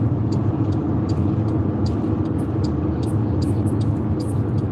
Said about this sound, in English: Yeah, that car was zooming.